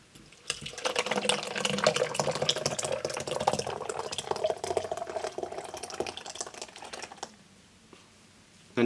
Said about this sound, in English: I can pour that into my net.